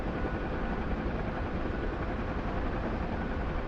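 A UH-1H Huey helicopter in the DCS flight simulator holds a steady, dense engine and rotor drone, loud and continuous throughout.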